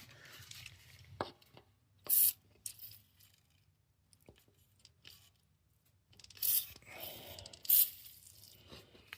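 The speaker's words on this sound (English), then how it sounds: "I may be able to just spray some PB Blast." Two short bursts of hissing spray from a PB Blast penetrating oil can, each lasting about half a second, separated by a pause, with faint handling clatter in between, on a Generac GP 5500 generator.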